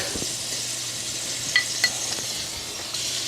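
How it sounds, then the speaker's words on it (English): Garlic, zucchini, scallions and snow peas sizzle in a buttered pan, a steady broadband hiss with a few brief clinks of stirring, fairly quiet and close, no voices. "I'm going to add just a little butter to the pan. And then I'm going to put in all my veggies"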